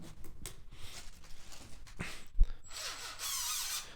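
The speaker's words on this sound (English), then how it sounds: "now you can drive hex head bolts and screws into the wall or wherever you need to do" An impact driver fitted with a socket adapter drives hex head bolts into a wall during a garage door opener installation, giving scattered mechanical clicks and bumps, then a sustained buzzing whir near the end.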